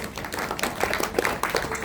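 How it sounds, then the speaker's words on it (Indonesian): An audience at a 50th birthday celebration gives a round of applause for Dokter Rita, many hands clapping in quick, dense rhythm, fairly loud and steady throughout. "Tepuk tangan buat Dokter Rita."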